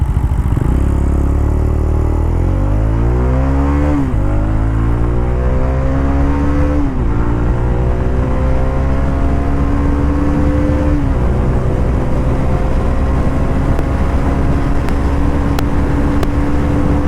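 A motorcycle engine revs hard and climbs through the gears, its pitch rising in repeated sweeps, loud and close throughout.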